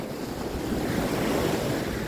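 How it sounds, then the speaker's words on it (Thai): Ocean waves at Laem Sing beach in Chanthaburi, Thailand, a steady roar of surf mixed with wind buffeting the microphone, loud and continuous with no voices. "อันนี้ก็คือหาดแหลมสิง"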